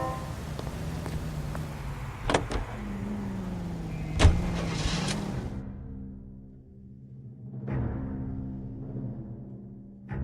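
A car driven in the game L.A. Noire: a steady engine hum and road drone that builds and eases, with a couple of brief knocks, fading toward a quieter stretch near the end.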